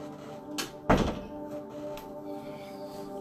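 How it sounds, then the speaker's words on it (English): A door closes indoors with a solid thunk after a lighter knock, then quiet room tone. "let me close that door again."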